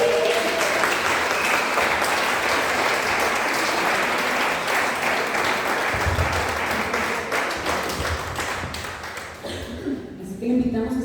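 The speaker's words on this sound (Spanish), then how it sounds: "¿Qué tal si usted le da un aplauso al Señor por eso?" A church congregation applauds loudly and steadily at a Spanish-language service, the clapping holding for several seconds before thinning out near the end.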